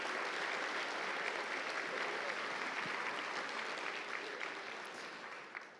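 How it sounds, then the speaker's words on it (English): A convention awards ceremony audience applauds gold medal winners in a miniature painting competition, a broad, steady wash of many hands clapping that gradually tapers off toward the end. "Gold medal, round of applause for this group."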